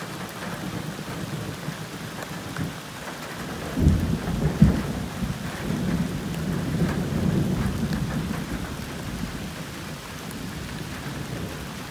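Heavy rain pours steadily through an outdoor thunderstorm, with a deep rumble of thunder swelling in the middle and fading back into the continuous downpour; no voices.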